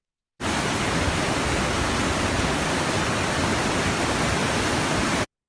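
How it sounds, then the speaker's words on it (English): A whitewater river played back as a recording: steady, loud rush, a dense broadband roar that holds constant from start to finish with no other sounds. "that's the whitewater, one of the whitewater rivers that we studied as a positive control"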